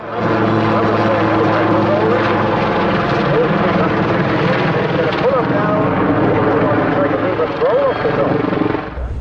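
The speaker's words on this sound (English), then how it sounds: "Britain's Lynx helicopter shows the crowd the crazy stunts used in battle" A British Lynx military helicopter roars continuously overhead performing stunts at a 2017 air show, with loud rotor and engine noise swelling and shifting as it manoeuvres, and faint crowd voices underneath.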